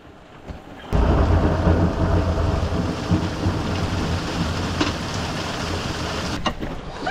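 A sudden loud crack of thunder from a lightning storm near a boat, opening into a long, steady roar and rumble that carries on for several seconds, with no voices.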